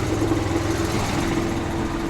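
An air compressor builds up pressure for a tow truck tire with a steady, loud droning hum that holds evenly from start to finish.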